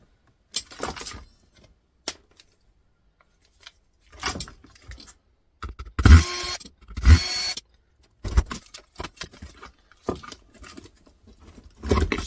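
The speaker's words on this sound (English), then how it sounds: "Snip these wires" Cutters snip wires from the circuit board of a scrapped smart kettle, giving a scattered series of sharp, close clicks and small handling rattles with quiet pauses between them.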